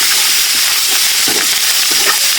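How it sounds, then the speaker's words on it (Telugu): Dried curry leaves fry over medium heat in a pan, giving a steady, loud, close sizzle with scattered crackles and light stirring scrapes, and no talk. "ఇలా ముందుగా మనం ఆరబెట్టుకున్న కళ్యామాస్ని ఇలా ఫ్రై చేసుకోవాలి మీడియంలో"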